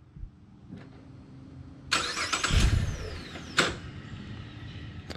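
A 2008 GMC Acadia SLT engine starts by remote: a faint click, then the starter cranks, the engine catches with a rumble and settles, followed by a sharp mechanical clunk, heard nearby without talking.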